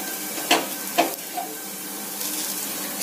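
Oil sizzles softly and steadily as an onion adai fries in a pan, with a couple of sharper spits near the start and no talk.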